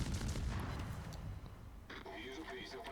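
Warship main guns firing in World of Warships from the destroyer Gremyashchy, a dense rolling burst of heavy booms followed by a quieter rumble, with someone talking over the action.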